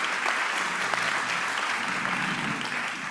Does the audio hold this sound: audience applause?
yes